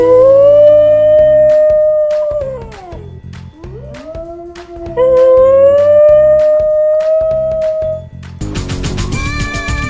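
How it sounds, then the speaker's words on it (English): New Guinea singing dogs howling in a kept pack, long rising and falling melodic wails that overlap and slide in pitch, loud and close, ending in a burst of layered yips and howls. "They're called singing dogs because the way they bark sounds like they're singing."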